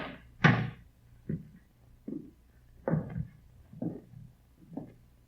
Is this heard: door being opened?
yes